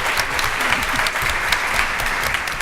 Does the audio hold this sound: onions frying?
no